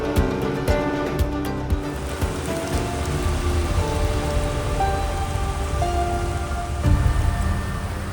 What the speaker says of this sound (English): We got caught in heavy rain on the boat on the way here to the campsite.